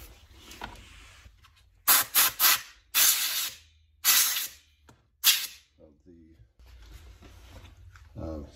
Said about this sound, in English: I think I'll just blow out this enclosure.